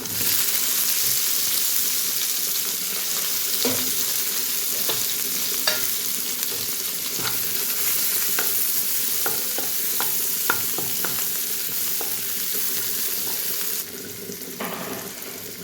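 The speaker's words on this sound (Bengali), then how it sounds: "একটু ভাজা ভাজা হয়ে গেছে" Tomato frying in a pan gives a steady broad sizzle with intermittent stirring clicks and scrapes, close and fairly loud, easing slightly near the end, with no talking.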